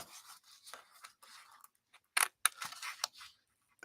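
Scissors snip down and miter the tabs of a paper or card box base in a run of quick, close cuts with crisp scratchy strokes, brief pauses between them and a louder burst near the end.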